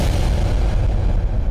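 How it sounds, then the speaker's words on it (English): Loud explosion sound effect, a dense, booming low-heavy blast that stays at full strength for its whole short length, with no voices. "that explosion loud as hell"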